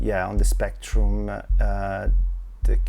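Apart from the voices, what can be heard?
None of the usual background noises is heard.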